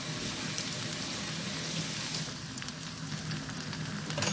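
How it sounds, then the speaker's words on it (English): Pork loins and mixed vegetables sizzle steadily in a hot, smoking pan, a continuous close crackling hiss with no talk over it. "And you can hear that lovely sizzling there"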